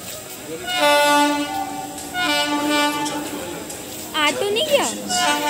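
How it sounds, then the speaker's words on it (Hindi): A train at Raipur railway station sounds its horn in two loud, sustained blasts, followed by other shorter wavering sounds from the busy platform. "अभी हम लोग स्टेशन में हैं, रायपुर रेलवे स्टेशन में"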